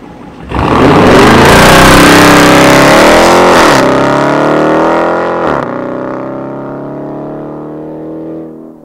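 Dodge Challenger RT on 245 tires roars loudly as the engine revs hard and the car pulls away, the note rising and dipping through gear changes before settling into a sustained drone.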